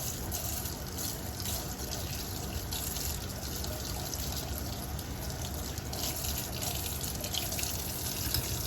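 Tap water runs over a makeup brush being rinsed clean of soap at a sink, a constant close hiss of flowing water with light splattering and no voices throughout.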